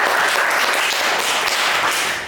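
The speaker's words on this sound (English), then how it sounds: "So one round of applause." Applause from an audience at a public-speaking club meeting, a steady dense wash of many hands clapping close by that holds evenly and fades slightly at the end.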